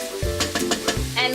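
Onions sizzle in a pan as the base for a pasta with peas, a steady frying hiss broken by a few quick stirring scrapes, close and fairly loud.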